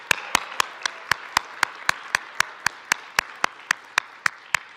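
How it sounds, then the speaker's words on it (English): At a speaking event in Salt Lake City, teachers applaud with sharp, evenly spaced claps in a steady rhythm, one close pair of hands standing out above a faint wash of the room. "give yourselves a round of applause"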